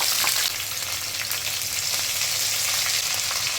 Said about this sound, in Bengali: প্রথমে একটি কড়াইয়ে সর্ষের তেল গরম করে এর মধ্যে পাঁচফোড়ন দিয়ে ফোড়নের গন্ধ বেরোতে শুরু করলে এর মধ্যে দিয়ে দেব কেটে রাখা সবজি।